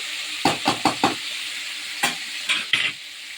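Fish fries in a pan while a spatula flips it, with a quick run of four scraping knocks followed by a few more over a steady, close sizzle and no talking.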